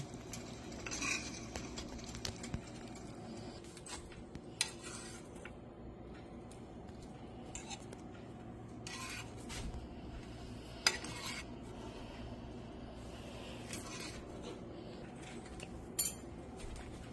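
Noodles being stirred and mixed in a pot, quiet intermittent scraping and clinks of a utensil against metal over a faint low sizzle, with occasional sharper knocks.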